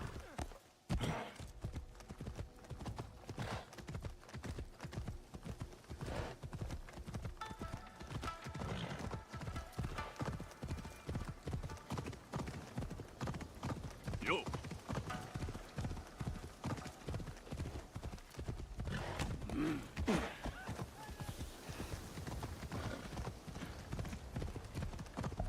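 A horse gallops in Assassin's Creed Shadows, with dense, fast hoof clip-clops pounding steadily throughout, close and continuous, and occasional neighs and whinnies cutting through.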